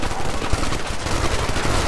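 Dense, continuous gunfire from a co-op firefight in the video game Ghost Recon Future Soldier, sustained automatic bursts packed tightly together at a steady loud level with no pauses.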